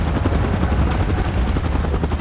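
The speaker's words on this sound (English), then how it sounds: "Chopper in position." A helicopter's steady rotor chop and engine roar fill the space, loud and close, holding a continuous throbbing beat with no voices over it.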